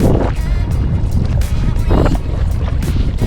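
Paddleboard paddle strokes dipping into water against a strong headwind, with rhythmic splashes roughly every half second under loud, constant wind buffeting on the microphone.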